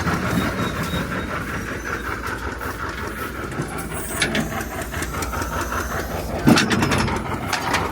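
A loud, unmuffled 720 tractor engine chugging while baling hay, a heavy rumbling drone with rhythmic mechanical clatter and a sharp clank near the end, close by.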